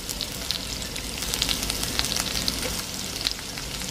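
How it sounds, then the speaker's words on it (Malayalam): Shallots and onions sizzle steadily in a pan, a loud continuous crackle with small sharp pops scattered throughout and no voices. "നെക്സ്റ്റ് നമുക്ക് ചെറിയ ഉള്ളിയും വലിയ ഉള്ളിയും ഇതിലേക്ക് ആഡ് ചെയ്ത് കൊടുക്കാം"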